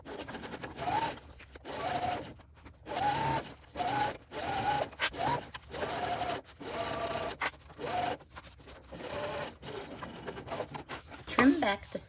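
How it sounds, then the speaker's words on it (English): A sewing machine stitches the top trim onto a tote bag with a 3/8 inch seam allowance. Short bursts of rapid, close-up whirring stitching come in an irregular stop-start pattern, each lasting a second or so. "We're then going to sew the top trim in place using a 3/8 of an inch seam"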